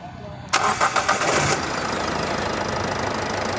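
A 2019 Toyota Etios diesel engine cranks with a few rapid bursts, then catches and settles into a steady, loud idle.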